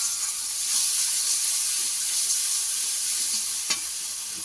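Spice paste with ground cumin frying in oil in a pan for a fish curry, a steady loud sizzle and hiss with soft stirring scrapes and one sharp clink of the spoon near the end.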